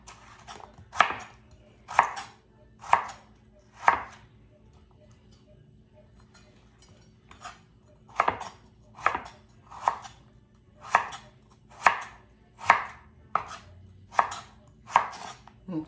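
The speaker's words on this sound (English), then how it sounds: "I'm gonna dice my potatoes because we're making French fries" A knife dices potatoes for French fries on a cutting board, sharp chops landing in evenly spaced bursts, a run of four, a pause, then a longer steady series, close and crisp.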